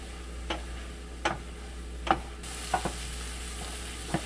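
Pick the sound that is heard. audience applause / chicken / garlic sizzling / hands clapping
garlic sizzling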